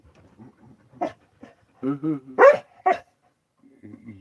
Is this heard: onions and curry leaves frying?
no